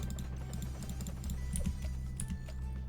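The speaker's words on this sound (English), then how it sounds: "I'm sorry if you hear my mouse clicks and my keyboard." Rapid, continuous typing on a loud computer keyboard while playing the video game Battles 2, clicking steadily and close up with a few brief pauses; no voices.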